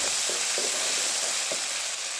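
Ginger garlic paste frying with browned onions in a pan, a loud steady sizzle with a few soft stirring scrapes through it, close up and without any voice.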